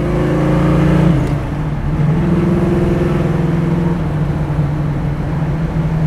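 A 1968 Chevrolet Chevelle engine hums loudly from inside the car, dropping briefly before rising again in a smooth climbing tone as the car picks up speed.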